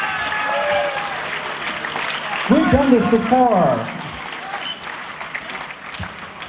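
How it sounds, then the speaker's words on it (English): Audience applause at the Scene.org Awards ceremony, a brief burst of clapping and crowd noise swelling near the middle, mixed with a speaker's amplified voice talking before and after. "Yes, that is the point where you applaud."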